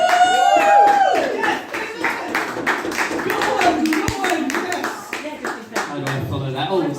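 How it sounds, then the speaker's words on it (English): An audience at a pub gig claps loudly for a stand-up comedian coming on stage. The claps are sharp and close, clustered in bursts, and a voice keeps talking over them throughout. "can we have a big round of applause?"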